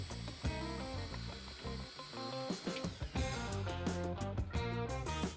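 A ratcheting driver or drill screws shelves onto wall cleats in a closet workspace, giving rapid, tonal mechanical whirs and clicks in several close bursts with short pauses between them.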